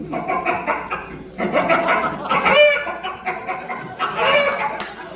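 A performer on stage imitates a hen with his voice, producing a series of rapid, nasal clucking and cackling bursts in several loud phrases.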